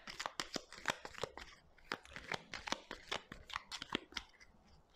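Playing cards being shuffled and dealt during a card reading, a rapid run of crisp snapping and flicking sounds close by, with no voice.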